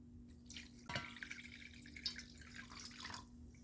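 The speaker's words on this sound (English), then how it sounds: "pour 1 cup of water over the edge of the pot." Water is poured over the edge of a pot holding flatfish braising in sauce, giving a steady trickling splash with one sharper splash near the start, close and fairly quiet throughout.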